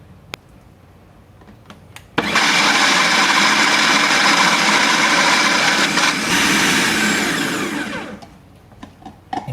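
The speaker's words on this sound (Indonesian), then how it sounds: "Dah ini dulu saya blender dulu ini" Blender loudly blending chayote, starting abruptly, whirring steadily at full power for about six seconds and then winding down, with faint clicks before and after.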